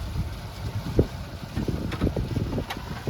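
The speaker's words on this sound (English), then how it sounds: "A little windy." Wind gusting across an open harbor at Gulfport, Mississippi during a spring fishing outing, a steady rough rumble with low buffeting bursts against the microphone, plus faint water and boat noise around it.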